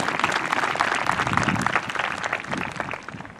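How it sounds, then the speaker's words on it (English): An audience at a high school graduation ceremony claps for the class of 2021, a loud, dense round of applause that holds steady before thinning out near the end. "let's give them a round of applause"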